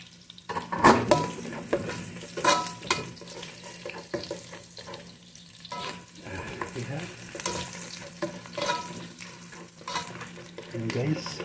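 Garlic sizzling and frying in a pan while a mullet paksiw is cooked, a steady crackle with stirring scrapes and clatter layered over it, fairly close and moderately loud, without speech.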